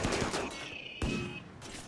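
Turret gunfire against mechanoids in the video game Rimworld: a couple of sharp close bursts with a thin metallic ringing tone between them, brief and fairly loud, no voices.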